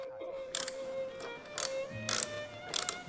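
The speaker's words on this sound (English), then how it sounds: "then tighten the caliper bolts." Ratcheting clicks come from a wrench tightening brake caliper bolts, four short bursts of ratchet ticks spaced about half a second apart over a faint steady background hum, close and fairly quiet.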